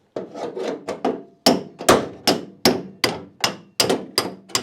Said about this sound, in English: with my trusty bolster chisel, hammer, and also eye protection, we'll start knocking this off